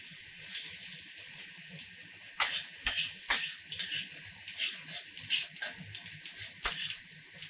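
Garlic frying in hot oil for a tadka, a continuous bright sizzle and crackle that swells in uneven bursts and sharp pops as the cloves hit the pan, close and steady with no talking.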